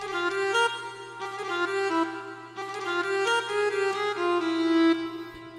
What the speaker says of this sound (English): Right here we have the nyckelharpa, which is a really cool string ethnic instrument.